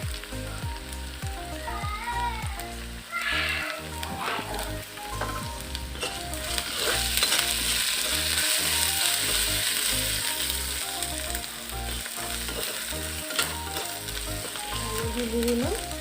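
Spices sizzle in a pan with garlic paste and turmeric for a watermelon curry, a loud steady frying crackle with scraping stirs and clinks now and then across the whole stretch.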